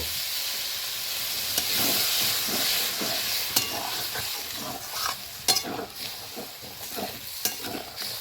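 Potatoes and kohlrabi cooking in a spice masala for a fish dish, with a steady hissing sizzle in the pan and intermittent scraping stirs and sharp clinks of a utensil against the pot, no voices.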